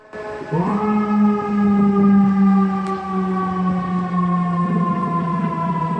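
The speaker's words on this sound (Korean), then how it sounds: "미국의 일부 소방차와 경찰차에는 럼블러 또는 하울러라는 장치가 있습니다" A US emergency vehicle's Rumbler low-frequency siren wails loudly and close, starting abruptly and holding a deep, steady tone with a slight pitch rise at the onset, sustained throughout with no talking.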